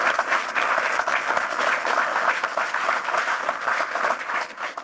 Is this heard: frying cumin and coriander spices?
no